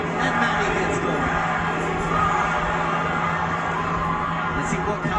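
A big arena crowd at the Pacquiao vs Barrios boxing match roars in a steady, loud wash of cheering and yelling, with a commentator's voice running over it throughout.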